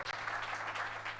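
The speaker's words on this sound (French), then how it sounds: "Applaudissons le Seigneur Jésus-Christ." A church congregation claps together in a brief burst of dense, steady applause, heard close and without talk.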